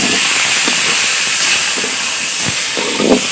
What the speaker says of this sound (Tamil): இப்போ தக்காளியை போட்டுடலாம்